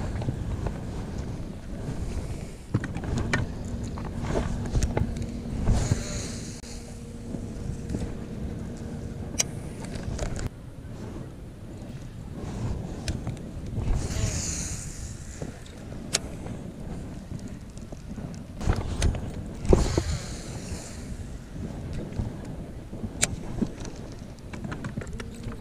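Wind gusting steadily across an open boat during cold-weather bass fishing with an Alabama rig, a broad continuous rush with stronger gusts now and then and occasional light knocks and handling noises.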